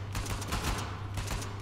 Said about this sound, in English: Let's throw some bullets downrange.